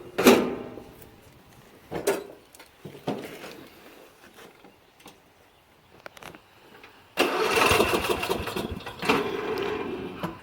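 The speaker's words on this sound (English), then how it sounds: "See if the engine will start." Lawn mower engine cranks in short, sputtering bursts separated by quiet gaps, then grinds through a longer, louder attempt near the end, all close by with no talking.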